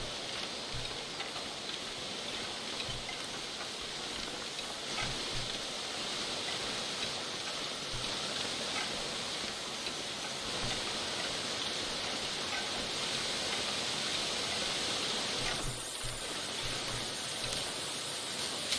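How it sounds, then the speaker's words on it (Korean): The steady roar of a stepped waterfall in the survival game The Long Dark: a continuous, broad rushing hiss of falling water that stays even and fairly close throughout. "이게 계단폭포거든요"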